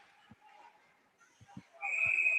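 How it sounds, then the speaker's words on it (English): At a high school ice hockey game between Quaker Valley and Montour, a few dull knocks from the rink are followed by a referee's whistle that sounds late as a single sustained, piercing blast. "And finally, the whistle blows."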